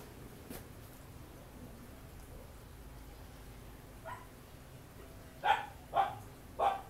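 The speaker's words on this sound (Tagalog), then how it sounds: "Ingay ng aso." A dog barks several times in the distance, faint at first and then three louder barks in quick succession, against quiet background noise.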